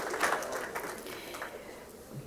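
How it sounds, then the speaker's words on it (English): An audience at a school awards ceremony applauds steadily for a student honoree, a soft, even patter of many hands heard from a moderate distance. "One more round of applause"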